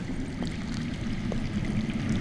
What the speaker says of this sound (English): That's water. I hear water.